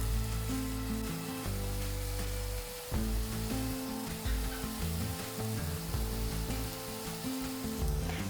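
Small lentil paste dumplings sizzle steadily in a little mustard oil in a pan, a continuous close frying hiss with occasional stirring, no speech.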